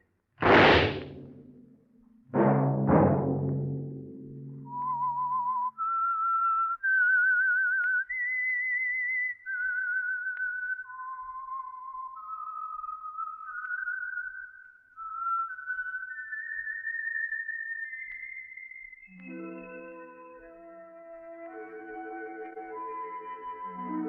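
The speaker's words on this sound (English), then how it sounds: "Let that whistle be your signal for the Signal Oil program, The Whistler." A whistled theme tune from an old radio mystery programme, preceded by a couple of sharp swishes, is a clear melodic solo whistle of rising and falling sustained notes that ends in a soft orchestral chord.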